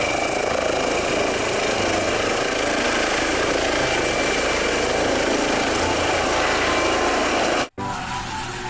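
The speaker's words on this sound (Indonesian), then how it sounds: "helikopter." A toy or model helicopter gives off a steady, loud broadband whir with constant rotor-like drone, cutting out abruptly near the end before a brief quieter continuation.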